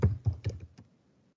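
A computer keyboard gives a few quick clicks at close range, four or five keystrokes in the first second, then fades into near silence.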